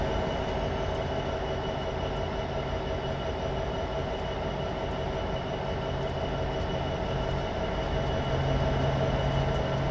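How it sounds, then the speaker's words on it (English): Trains pass at Horseshoe Curve in a Train Simulator 2015 railroad game, a loud continuous rumble of rolling rail cars with steady droning tones and faint rhythmic wheel clicks, no talk. "Everywhere I go, there's deafening trains."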